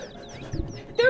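Chocobo chicks in Final Fantasy 7 let out a short burst of high, close chirps and cheeps, with a louder squawk at the end.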